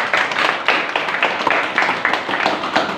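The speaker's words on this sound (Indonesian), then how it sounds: "Tepuk tangan dulu dia." A seated audience at a religious talk gives a short round of hand clapping, with scattered individual claps rising and falling in a loose rhythm throughout.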